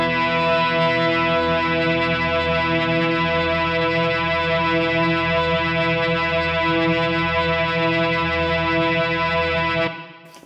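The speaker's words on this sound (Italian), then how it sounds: "vi faccio vedere adesso la modalità hold a cui ho accesso se mantengo la pressione del pedale quando sto" A Boss SY-1 guitar synth pedal in hold mode sustains a rich buzzy synth chord, close and unchanging for about ten seconds before cutting off abruptly.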